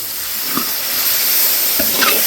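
Spice paste fries in a pan after water is poured in, giving a loud, steady hiss and sizzle throughout with faint bubbling pops.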